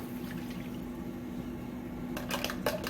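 Water and flour mixture being poured into a pan to make chicken gravy, a soft steady liquid pour with some brighter splashing near the end against a continuous low stovetop hum.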